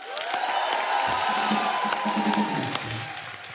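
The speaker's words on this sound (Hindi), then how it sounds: "पाजी जोरदार तालियां आप।" A studio audience at a comedy talk show claps and cheers for Kapil Dev, a loud, continuous crowd roar with whoops and a whistling tone rising over sustained applause.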